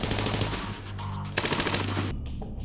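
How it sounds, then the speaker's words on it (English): A PKM general purpose machine gun fires in long, loud, rapid bursts, a dense rattling stream of shots with a brief break before resuming, close and overwhelming. "he designed the PKM machine gun."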